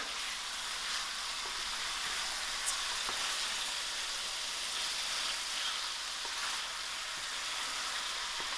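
Chicken chutney frying slowly over low heat in a pan, a soft continuous sizzle and hiss with a few faint pops, steady and unbroken, no talking.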